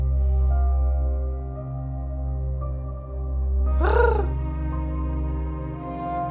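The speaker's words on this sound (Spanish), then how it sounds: "¿Así ronronea un gato?" A low, steady purring rumble from a cat-like creature in the dark Souls-style metroidvania game Moonscars, droning continuously under a sustained musical tone, with a brief rising cry about two-thirds through.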